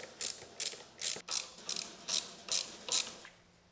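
A ratchet wrench clicks in eight quick, evenly spaced bursts, tightening bolts on a luggage rack being mounted to a Triumph Scrambler 900 motorcycle, close and clear with no talking.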